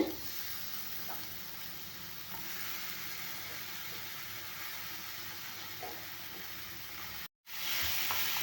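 Ridge gourd with onion sizzles and crackles steadily in a hot pan, a constant hiss with faint stirring clicks and a brief cut near the end.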